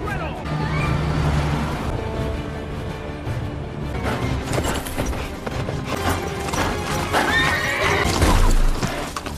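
Police cavalry horses charge through a movie chase, hooves clattering steadily and horses whinnying loudly over a dense, busy action soundtrack.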